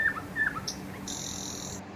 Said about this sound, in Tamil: ப்ளூ ஜே நீல அழகி